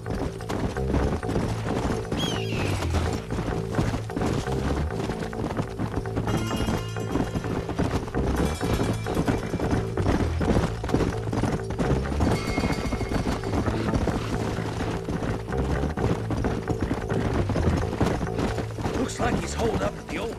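Horses galloping in the Red Dead Redemption video game, hooves clip-clopping in a continuous rapid rhythm under music and game sounds, with voices speaking along the way.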